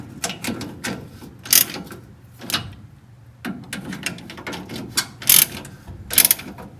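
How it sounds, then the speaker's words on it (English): Ratchet tightening 17 mm bolts on a VW bus axle during a transmission install, rapid close clicking bursts of the pawl repeated several times with short pauses and metallic knocks between, no speech. "let's tighten these up"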